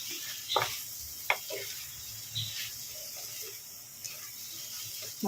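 A spoon stirs a breadfruit dish in a pan, giving a few soft scrapes and taps over a faint, steady sizzle. The sounds are quiet and spaced out.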